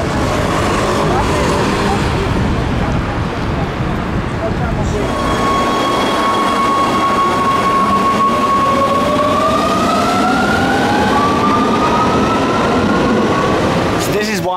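A Rome metro train at a station: a loud steady rumble of wheels and motors fills the whole stretch, with rising whining tones as the train accelerates away, close and continuous.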